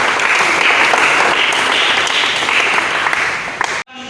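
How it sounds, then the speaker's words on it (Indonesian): A classroom of students in an automotive vocational lesson on carburetors breaks into loud, sustained clapping. The applause stays steady and dense for several seconds, then cuts off abruptly. "berikan aplaus kepada"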